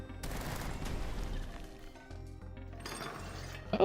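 Video game explosions and crashing blasts in quick bursts, loud and close, with a brief lull in the middle before another flurry of impacts and debris clatter.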